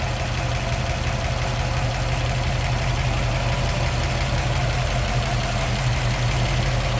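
A 1956 Mercury Custom two-door's engine idles at a steady, even rumble, close and continuous throughout with no talking.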